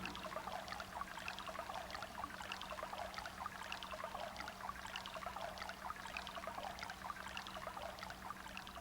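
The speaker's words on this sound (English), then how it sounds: "listen to its sounds" A babbling brook flowing near a small bridge gives a steady, soft trickle and burble that carries on without a break for the whole stretch, with no voices over it.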